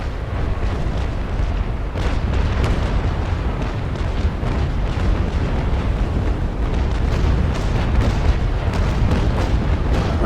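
In the Naval Action sailing-ship game, a cannon broadside pounds a ship with a dense, continuous barrage of deep booms and rumbling impacts. It is loud and sustained for about ten seconds, with no talk.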